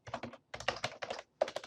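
Computer keyboard typing in short bursts of rapid, fairly close keystrokes separated by brief pauses, with no voices.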